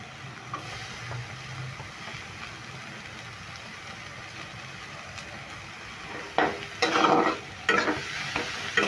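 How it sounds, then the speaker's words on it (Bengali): Grated cabbage tipped into a pan with onion and lightly fried green chili, a soft steady sizzle building into louder stirring scrapes and bursts of frying near the end, with no voices. "এবার দিয়ে দেবো বাঁধাকপিটা, যে আমি গ্রেট করে রেখেছিলাম, বাঁধাকপিগুলো দিয়ে দিচ্ছি।"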